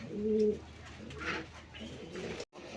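Pigeons at a farm, including a Rasgolla breed pair, coo in soft low throaty bursts, one near call at the start and fainter ones after, with quiet background room sound.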